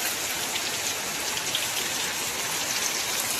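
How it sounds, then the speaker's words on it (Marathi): Heavy night rain in Konkan pours down in a constant, dense hiss, unbroken and loud throughout with no voices. "रात्री पण आता कडक आलाय मस्त पैकी पाऊस."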